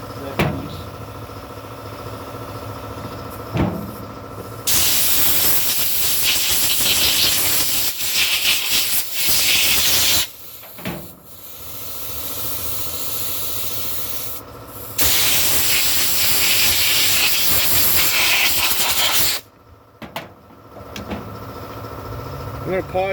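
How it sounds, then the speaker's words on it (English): An air compressor runs loudly and steadily in long stretches while a Jonsered 670 chainsaw is cleaned, cutting off abruptly between runs, with brief quieter gaps of low hum. "I'm going to shut that compressor off"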